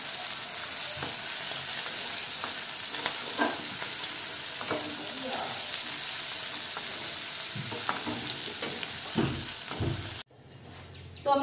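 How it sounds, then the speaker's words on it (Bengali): Cumin seeds and a bay leaf crackle in hot oil in a kadai, a steady close sizzle broken by spatula scrapes, then cutting off abruptly near the end. "তো আমি কড়াতে সেই তেলের ভেতরেই দিয়েছি সামান্য পরিমাণে জিরে ফোড়নের জন্য আর তেজপাতা।"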